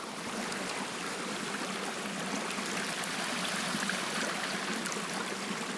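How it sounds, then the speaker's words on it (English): McDonald Creek flows nearby along a trail with a steady, broadband rush of running water that stays even and continuous throughout, with no voices. "That's running water."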